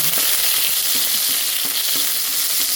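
Chicken breast guisado is sautéed in a pan, a loud, dense, continuous sizzle with a few soft stirring knocks, heard close up with no talking.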